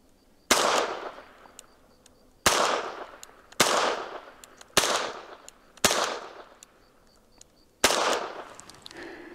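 Six loud, sharp double-action shots from a Ruger Super Redhawk Alaskan .454 Casull revolver, each a hard crack with a ringing decay, spaced at steady intervals of about 1.5 seconds, with no talking.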